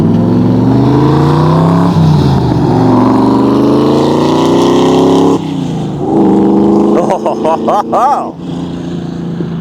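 A 1972 De Tomaso Pantera pulls away, its engine note climbing loudly under acceleration, dropping at a gear change midway, then climbing again as it recedes. A person briefly exclaims near the end.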